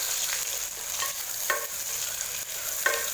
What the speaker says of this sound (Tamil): வெங்காயத்தை நல்லா வதக்கி விட்டுருங்க